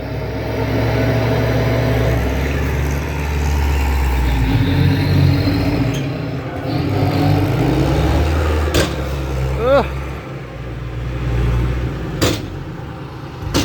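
A modified dump truck accelerates hard with a loud, close engine roar that rises and holds. Voices talk over it, and there are brief sharp knocks.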